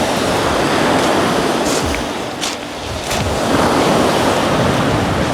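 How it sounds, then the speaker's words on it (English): Large ocean waves roll and break onto a rocky, stony beach, filling the scene with a loud, continuous roar of surf, with gusts of wind buffeting the microphone. "The waves are huge right here"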